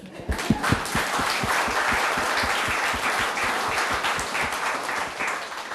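Applause rises from a conference audience, a close, steady patter of many hands with individual claps clearly audible, starting abruptly and holding evenly for several seconds without speech.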